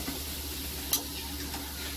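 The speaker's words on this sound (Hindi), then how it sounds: "हमारे आलू अच्छे से फ्राई हो चुके हैं।" Potato pieces frying in hot oil for chilli potato, a soft, continuous sizzle with a couple of faint ticks from utensils.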